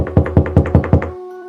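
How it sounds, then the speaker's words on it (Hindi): A cartoon door is knocked five times in a quick, even rhythm, each knock a loud, hollow thud. A short tonal ring lingers after the last knock, and no one speaks. "गुड़िया दरवाजे पर दस्तक देती है।"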